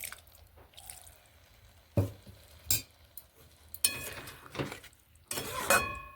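Water goes into a pan of simmering beans curry: brief splashes and sizzling bursts come in separate spurts, broken by clinks of a utensil against the pan and quiet gaps between.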